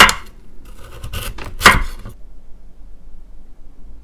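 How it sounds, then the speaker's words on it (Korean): A knife chops kabocha squash into smaller pieces, with a few sharp, close board strikes in quick succession before the room falls quiet. "딱딱한 꼭지는 제거해 주고 더 작게 썰어 줄게요"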